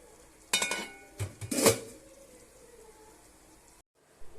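Metal idli plates clatter and clink in a home kitchen as freshly steamed idlis are lifted off and moved into a hot box. Several short, close bursts of rattling come in the first half, then fade into quiet room tone.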